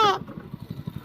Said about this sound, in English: At least we got the motorbike back to running.